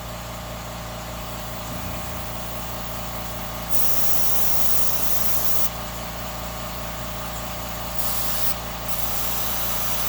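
Spray paint hisses in short light bursts over a stencil on a rusty metal surface, three distinct blasts of a few seconds each over a steady background hum, close by.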